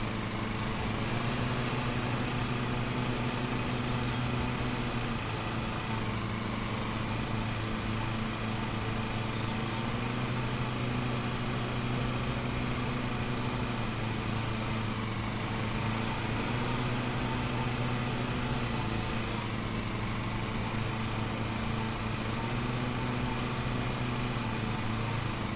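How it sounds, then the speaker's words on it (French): A small riding lawn mower engine in Lawn Mowing Simulator drones steadily at a constant idle-like pitch, continuous and unchanging throughout, with no other sounds. "conduire un petit tracteur tondeuse"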